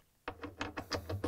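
A 13 mm socket wrench ratchets while tightening a bolt on a Samsung washer spider arm assembly (DC97-15877B): about seven quick, evenly spaced clicking strokes, close and fairly loud, with no voices.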